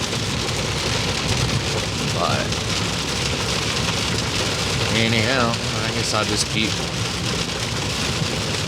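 Heavy rain pours steadily during a thunderstorm, drumming on a truck parked on the road toward Sacramento, California, with someone talking over the constant wash of rain.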